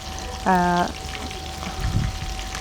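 Chicken pieces shallow fry in a pan, giving a steady, close hiss and sizzle throughout, broken by a brief tonal beep early on and some faint voice.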